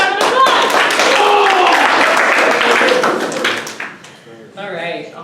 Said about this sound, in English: everyone give Joe a round of applause.